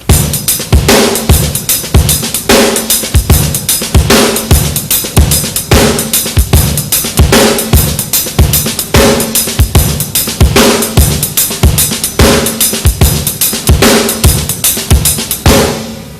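A drum kit plays a loud, steady shuffle groove with punchy bass drum hits in a repeating syncopated pattern, continuous and close, with no talking.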